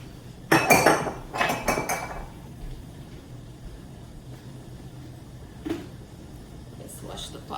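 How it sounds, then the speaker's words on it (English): Dishes and pots being washed in a home kitchen: a cluster of sharp clinks and clatters at the start, followed by quieter scattered clinks over a low background hum. "we're washing the dishes"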